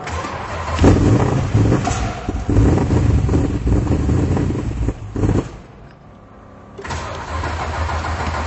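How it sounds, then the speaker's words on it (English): A 1972 Chrysler Valiant VH Charger, fitted with a stage 2 727 transmission and 4,500 stall converter, cranks and turns over loudly up close, stumbling and dipping once before catching and settling into a rough, cold idle. "I'll actually start up the car so you can have a bit of a listen to it."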